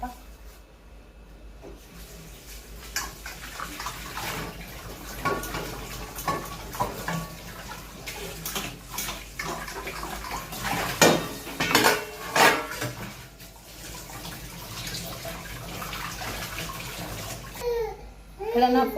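Bowls and dishes are washed in water at a home kitchen sink, with clinking and knocking of pots, bowls and cutlery over splashing water, louder bursts of clatter toward the end.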